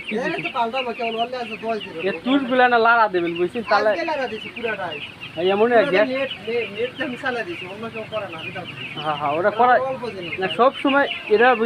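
Broiler chickens on a small poultry farm, a dense chorus of clucking and squawking from many birds, loud and continuous throughout, with a voice talking over the flock in places.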